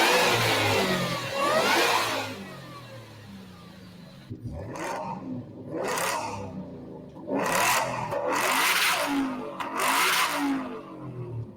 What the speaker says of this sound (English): Let me give you guys some rev clips.